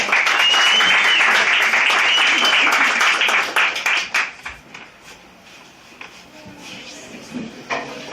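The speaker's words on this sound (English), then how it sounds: "Round of applause." Audience applause at a poetry slam, loud dense clapping and cheering that thins out into a few scattered claps and murmurs toward the end.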